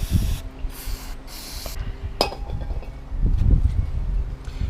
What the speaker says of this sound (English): I'm just going to give these a bit of a squirt.